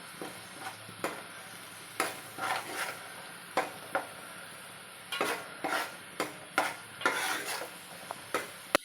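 Onion paste frying with turmeric in a pan for a Warangal-style fish curry, stirred with a utensil that scrapes and clinks in repeated irregular strokes over a soft, steady sizzle, close and alone with no talk.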